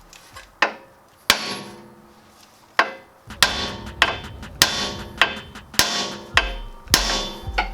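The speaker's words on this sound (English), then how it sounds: "Okay, then need the hammer." Sharp metallic hammer blows on a Honda Element strut top hat, first a few spaced strikes, then a quicker run of roughly a dozen ringing hits, loud and close.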